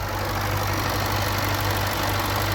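A Range Rover engine idles after repair, giving a steady, even low rumble with a faint mechanical ticking, close and continuous without speech.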